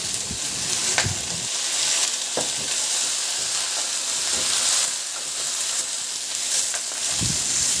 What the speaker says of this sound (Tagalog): pagka baliktarin mo para ang kabilang side naman ulit yung ma-sear, hanggang sa medyo mag-brown na yung sides,